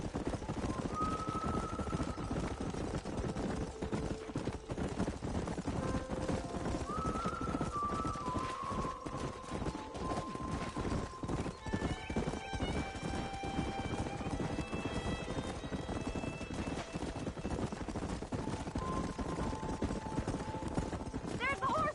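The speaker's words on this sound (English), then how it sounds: "There's the horses! Get that lasso ready!" Horses gallop and neigh in the Western video game Red Dead Redemption, with a continuous rapid clip-clop of hooves and repeated whinnies over a busy backdrop of music and game noise, while characters talk.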